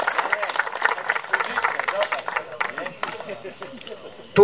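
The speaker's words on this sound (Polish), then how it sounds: "Brawa, brawa dla zwycięzców." A crowd applauds the winners at a Polish veterans' float-fishing championship, a brisk spatter of clapping mixed with murmuring voices, then fading out near the end.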